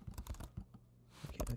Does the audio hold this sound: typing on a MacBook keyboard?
yes